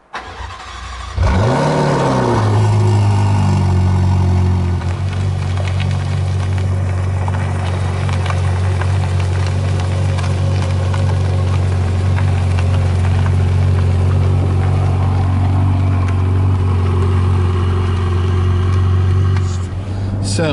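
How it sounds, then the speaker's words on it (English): A Ferrari California T engine fires up with a quick rising rev, then settles into a loud, deep, steady drone while driving, close and continuous for nearly twenty seconds. "So we're in the Ferrari,"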